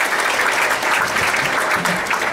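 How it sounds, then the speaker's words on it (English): A loud, close burst of crowd applause for a performer named Rod at an evening event, dense steady clapping that fills the whole moment. "real big round of applause for Rod"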